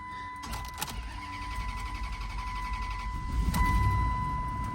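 Car engine cranking and catching after being jump-started with a battery jump pack at an auto auction lot, a couple of sharp clicks followed by the engine firing and settling into a rising rumbling idle.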